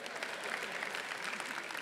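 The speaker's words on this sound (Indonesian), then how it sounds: "Tepuk tangan buat ibu saya." Steady applause from an audience at an awards ceremony, a dense, even patter of many hands clapping at moderate volume for about two seconds with no speech.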